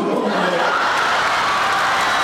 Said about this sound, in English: he still made the crowd laugh and cheer